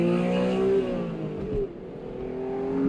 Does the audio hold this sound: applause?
no